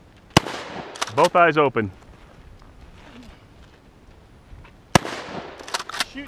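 Sharp, loud gunshots at an outdoor shooting range, one early and another later, separated by people talking between the shots.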